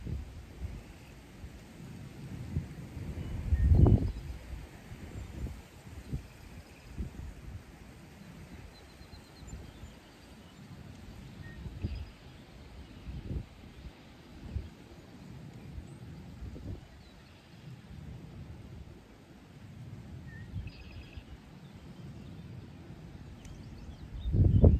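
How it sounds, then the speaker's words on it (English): Strong wind sweeps across an exposed lake inlet with no trees for shelter, buffeting the microphone with a low, rumbling roar that swells into heavy gusts, loudest near the start and at the very end. "It's really windy over here."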